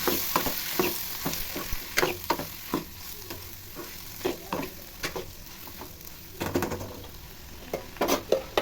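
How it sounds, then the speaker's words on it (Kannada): Lentils and beans sizzle in a hot pan while a spoon stirs and scrapes in a steady rhythm, giving a quiet frying hiss broken by regular clicks. "ಕಾಳು ಮತ್ತು ಬೀನ್ಸ್ನ ಸೇರಿಸ್ಕೊಂಡು ಚೆನ್ನಾಗಿ ಫ್ರೈ ಮಾಡಬೇಕು"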